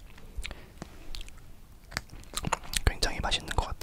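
Candied kumquat tanghulu being bitten and chewed up close, with sharp crunches of the sugar shell and wet chewing that grow busier toward the end, quiet and intimate with soft whispery breaths.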